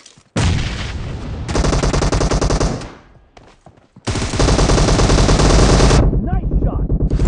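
Heavy automatic gunfire in PUBG Mobile, loud sustained bursts of rapid shots in two long strings separated by a short pause, with faint voice chat underneath.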